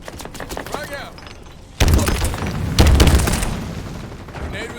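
Frag grenade explosions in Halo Infinite multiplayer, two sharp, loud booming blasts a second apart, each with a rumbling tail, heard over game chatter and effects.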